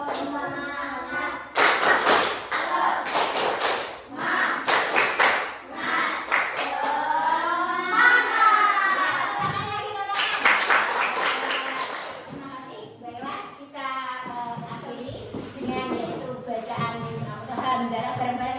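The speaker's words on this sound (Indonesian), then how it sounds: "Tepuk semangat. 1, 2, 3. Tepuk semangat." Schoolchildren in an Indonesian classroom perform a rhythmic spirit clap, bursts of group clapping in patterned beats mixed with loud chanting voices and a teacher talking between rounds.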